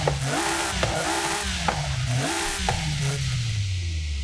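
Jaguar XJ220S engine in Forza Horizon 5, revved repeatedly in short rising bursts with pops between them, ending in a long falling note as it settles, loud and close with no talking.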